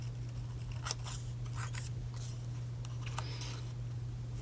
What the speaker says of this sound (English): So let's come around the leaf, see how I rotated my paper again.